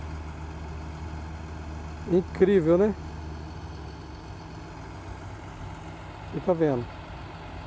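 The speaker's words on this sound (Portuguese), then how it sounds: "E aquele outro trator ajuda a puxar." A tractor pulling a sugarcane planter holds a steady, low engine drone in the background, while someone speaks briefly twice over it.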